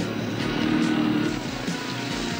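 Honda ATC 250SX three-wheeler from the mid-1980s with a 246cc engine and full front and rear suspension, running with a steady, loud engine drone and a low buzzing tone, no talk over it.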